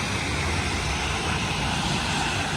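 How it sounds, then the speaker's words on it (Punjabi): An airplane coming in to land near a seaside beach, heard as a loud continuous engine roar that stays steady throughout, with no talking over it. "ਇਹਨਾਂ ਜਹਾਜ਼ਾਂ ਨੂੰ ਆ ਦੇਖੋ ਜਿੱਦਾਂ ਲੈਂਡ ਆ ਗਿਆ ਲੈਂਡਿੰਗ"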